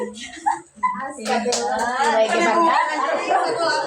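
Hand clapping from a small group of women during a community teaching session, brief claps at the start, then chatter and overlapping voices, including a child's, that dominate as the clapping fades.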